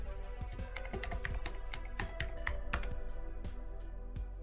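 Rapid, irregular clicks of fingers typing a password on a computer keyboard, close and fairly quiet, keystrokes coming in quick bursts with short pauses.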